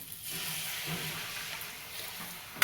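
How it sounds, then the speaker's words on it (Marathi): Hot water pours in a steady, close splashing rush for a couple of seconds, ending with a small knock, no voices. "गरम पाणी टाकून घ्यायचं हे बघा"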